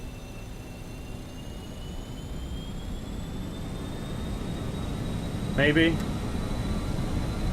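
BAe 146 jet engines at takeoff power in Microsoft Flight Simulator 2020, a steady roaring rumble with rising high whines that builds slowly, and a person speaks briefly partway through.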